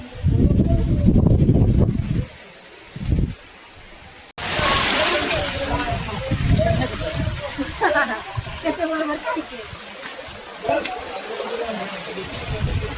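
Water rushes and splashes steadily down a run of stone steps on a fort trek in the rain, a broad, close wash of sound with some voices faintly in the background.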